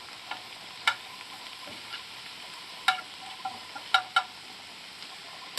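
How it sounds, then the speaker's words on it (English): Olives frying in a pan for an omelette, heard as a soft, even hiss with a handful of sharp pops and taps scattered across the few seconds, fairly quiet and close. "I'm going to fry up some olives there."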